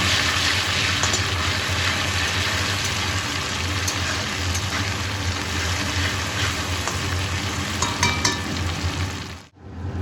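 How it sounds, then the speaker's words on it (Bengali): Ginger garlic paste frying with chopped onions and whole spices in a pan, stirred as it cooks: a loud constant sizzle with scraping stirs and occasional pops, cutting off abruptly near the end. "এখন এর মধ্যে আদা রসুনের পেস্ট দিয়ে ভালোভাবে নেড়ে চেড়ে ভেজে আদা রসুনের গন্ধ দূর করে নেব"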